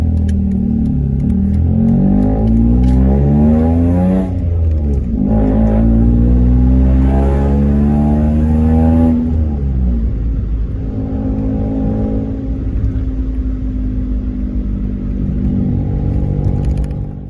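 A Peugeot 107 fitted with a Hornet sport exhaust drones loudly and continuously from close by, the engine note rising and falling in pitch as revs change, then settling into a steady boomy hum.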